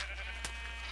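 Sheep in a video game, heard as a steady, wavering bleat that lasts about a second, fairly faint and alone with no talk.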